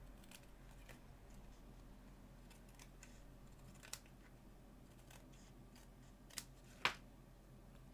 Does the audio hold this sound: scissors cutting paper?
yes